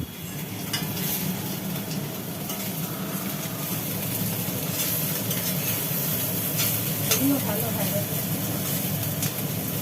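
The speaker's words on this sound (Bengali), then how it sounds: "মাছ ভাজা তো চলছে" Fish sizzling and frying in a hot pan in a home kitchen, a continuous crackling hiss with occasional stirring scrapes, close and steady for several seconds.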